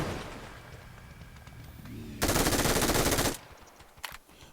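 Sustained automatic gunfire from a weapon in the mobile battle-royale game PUBG New State, a loud dense burst of about a second after quieter game ambience, followed by a short single crack near the end.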